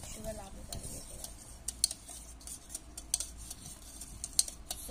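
A metal spoon clinks and taps irregularly against a pot while stirring sugar into boiled milk, sharp little ticks over a soft background, with a voice talking in between.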